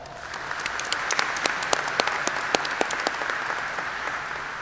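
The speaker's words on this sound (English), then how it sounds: "Please give him a round of applause." A graduation ceremony crowd applauds the student speaker with sustained, dense clapping, some sharp individual claps standing out near the microphone throughout.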